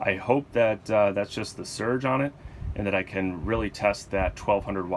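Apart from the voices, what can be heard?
No everyday noises stand out.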